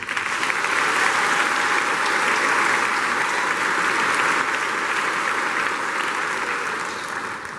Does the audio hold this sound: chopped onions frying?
no